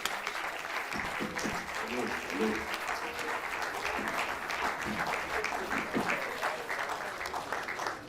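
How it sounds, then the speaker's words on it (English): Sustained applause from a crowd at a valedictory lecture, a steady wash of many hands clapping at moderate distance that continues without a break. "Let's clap and give him a standing ovation"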